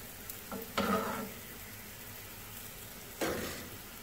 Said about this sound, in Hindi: मैंने पराठा तवे पे डाल दिया, तवे की बिल्कुल स्लो आंच है